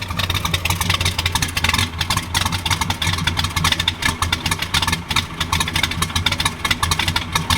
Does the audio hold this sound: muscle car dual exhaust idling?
yes